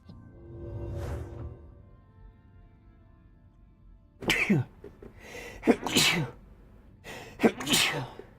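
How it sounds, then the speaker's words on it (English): Several sneezes from a character in the game The Elder Scrolls IV: Oblivion, three sharp bursts spaced a second or two apart, following a softer low breathy sound, with no talk over them. "All the time with the sneezing."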